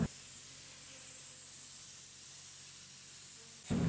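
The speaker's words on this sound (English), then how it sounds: "When the spray foam is applied to the surface" Closed cell spray foam insulation hisses from a spray gun inside an airport hangar, a steady close hiss held for several seconds before cutting off abruptly.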